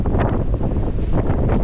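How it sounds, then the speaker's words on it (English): Strong wind buffets the microphone atop St. Augustine Lighthouse, a loud, continuous rumbling roar with no let-up and no talking. "It is windy outside."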